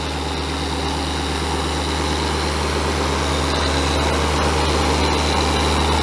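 A dual action polisher with a microfiber pad runs steadily, a loud continuous motor whine and hum held close throughout with no pauses, plus a few faint ticks.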